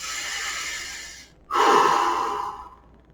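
A deep breathing exercise, a long steady inhale through the nose, a brief pause, then a strong, longer breathy exhale, close and alone.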